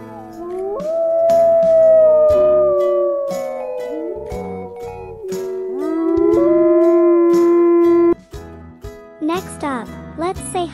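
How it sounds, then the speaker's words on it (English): A wolf howls in long, loud, sliding tones that rise and fall over several seconds, with a second howl overlapping, then light chiming and a brief voice at the end. "Let's meet Wolf, a clever and friendly howler."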